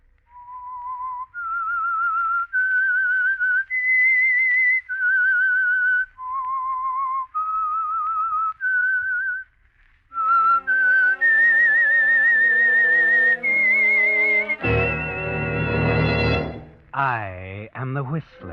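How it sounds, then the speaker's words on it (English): A whistled signal tune for The Whistler radio program, played as a clean, melodic sequence of rising and falling notes, loud and close. Fuller orchestral instruments join midway and carry the melody on to a swelling finish. "That whistle is your signal for the Signal Oil Program"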